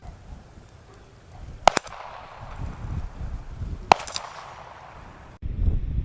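Distant gunfire at a 155-yard outdoor range from .22 pistol, .22 rifle, .22 Magnum, 9mm and .45 ACP, heard as a few sharp, isolated cracks spaced seconds apart over quiet open-air background.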